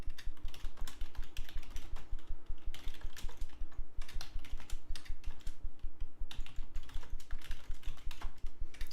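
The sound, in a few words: typing on a computer keyboard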